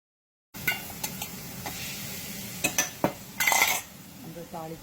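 Tempering spices sizzle and crackle in a hot pan, a steady frying hiss under scattered clinks and scrapes of a utensil against metal, close and moderately loud, with no talking.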